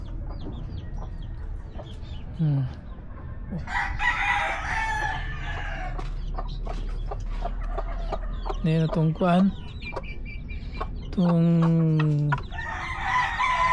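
Hens cluck nearby while a rooster crows loudly several times, with a person talking over the farmyard noise.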